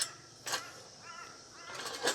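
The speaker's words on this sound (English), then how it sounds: "You can hear the birds in the background," Crows cawing outdoors in short bursts, a few harsh calls spaced apart at moderate distance, with faint rustling between them.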